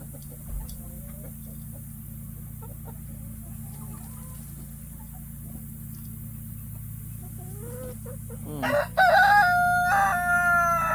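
Scattered soft clucks over a steady low hum, then a loud rooster crows close by near the end.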